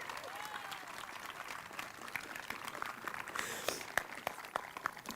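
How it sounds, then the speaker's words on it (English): A graduation audience applauds in a steady, moderately distant patter of many hands, sustained for several seconds with a few sharper claps standing out and faint talk beneath. "You can clap again, it's okay."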